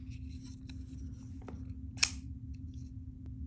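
A Pocket Katana-lite folding knife with a blue tanto blade is flicked open, giving one sharp metallic snap of the blade locking out, alone over a low steady room hum with a few faint clicks before it.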